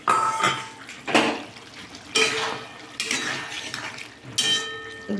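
Eggs dropped into a pot of drumstick curry, making several close clinks and clatters of utensil against pot over a soft bubbling simmer, with no talking.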